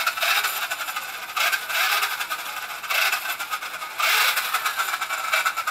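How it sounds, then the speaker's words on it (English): A Helion Dominus 10SC RC car rattles in repeated bursts, a bright clattering buzz that swells and drops roughly every second and a half, close and fairly loud with no voices. "Definitely rattling now."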